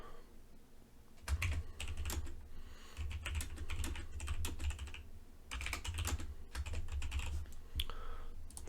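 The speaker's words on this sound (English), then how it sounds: "Sorry, I'm typing slow." Fingers tap on a computer keyboard in irregular bursts of quick clicks and brief pauses, close and clear, while someone enters language settings during a software setup; no one speaks over it.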